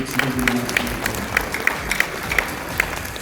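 Scattered applause at a monthly film festival award night, a crowd clapping loosely with individual sharp claps standing out, plus a faint low murmur underneath.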